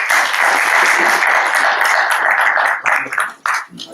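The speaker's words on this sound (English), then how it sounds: "Please give a round of applause to Zuhur Saab." Conference audience at a Peace & Security in South Asia event applauds the speaker, a loud, dense burst of clapping that holds steady before thinning into a few scattered claps at the end.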